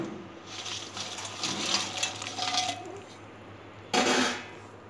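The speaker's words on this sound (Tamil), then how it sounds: "இந்த மாதிரி ஃபுல்லாக மூழ்கிற அளவுக்கு நம்ம தண்ணி ஊற்றிக்கிறணும்" Warm water poured into a bowl over dried anchovy fish for soaking, a steady splashing pour for about three seconds followed by a brief louder gush near the end, close and alone.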